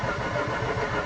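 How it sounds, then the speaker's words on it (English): A Mazda RX-8 rotary engine cranking over on the starter without firing, a steady dense churning whir throughout, loud and close. "I'll just crank the engine over"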